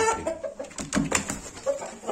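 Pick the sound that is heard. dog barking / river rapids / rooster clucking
rooster clucking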